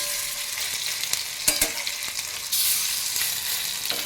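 Gandal leaf fritters (bora) being turned over as they fry in oil, a continuous close sizzle with a few sharp clinks and scrapes of the utensil, and the sizzle briefly surging after a flip; no talking.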